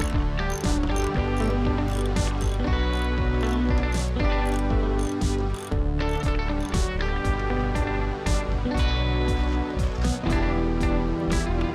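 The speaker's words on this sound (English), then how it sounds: "It's just going to be easiest to get to it with the old ratchet." Ratchet turning a 10mm nut on the grill of a Ford F250/F350 Super Duty truck; a loud, close, rapid clicking of the pawl in steady bursts, with short pauses between strokes.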